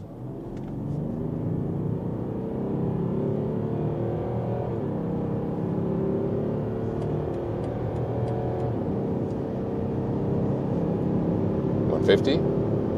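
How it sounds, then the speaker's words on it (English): Inside a BMW X5 with a 3-liter six-cylinder in sport mode, the engine gives a steady, moderate rumble and whir as the SUV accelerates hard, building gradually over several seconds. "That was very good acceleration here for the 3-liter 6-cylinder"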